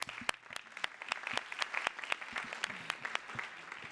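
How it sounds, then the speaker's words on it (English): Conference audience at a transportation forum applauding: distinct individual hand claps ring out over a thinner crowd clapping, irregular and moderately loud, continuing for a few seconds without any speech over it. "Let's applaud those goals."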